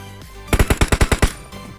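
Rapid automatic gunfire from the video game PUBG Mobile, about eight loud, evenly spaced shots in a quick burst, heard alone without talk.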